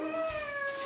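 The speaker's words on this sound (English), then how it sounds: "You can tell her annoyed meow" A single drawn-out cat meow, close and sustained, with an irritated, complaining tone.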